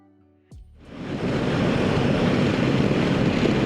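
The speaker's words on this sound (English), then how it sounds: "It's kind of windy today" Loud, steady wind rush roaring over the microphone, rising quickly after a brief quiet start and then holding constant, while riding a 2025 Royal Enfield Himalayan motorcycle at speed on a windy day.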